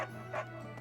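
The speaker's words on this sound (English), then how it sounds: "Shut up, dog!" A dog barks in a room, giving a couple of short, fairly quiet yips and whimpering barks in the middle of a sub-second clip, with a steady low hum underneath.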